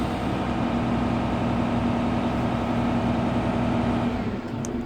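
A Grove crane's engine runs at raised revs while its outriggers level the machine, a loud, steady, continuous drone with a constant hum that eases slightly just before the end, close by and with no talking.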